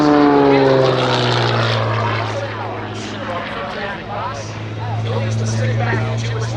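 A GameBird GB1 aerobatic propeller airplane drones loudly overhead at an air show with a steady, slightly shifting engine note, while an announcer's voice talks over it throughout.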